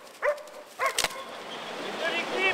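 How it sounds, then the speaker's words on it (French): A search and rescue dog barks to mark a located victim. Two or three sharp barks ring out close by, followed by fainter whimpering and distant chirping. "Le chien effectue un marquage, là, il y a un aboiement donc, soutenu, donc c'est un marquage"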